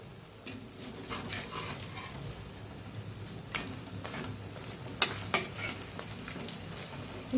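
Gandhabhadali leaf fritters (bora) bubble and sizzle steadily in hot oil, close up, with sharp clicks and spatters as the pieces are flipped one by one.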